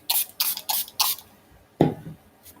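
Several short hissing bursts of a hand sprayer misting water during mono-printing, evenly spaced, then a pause and a final louder spurt, close and alone.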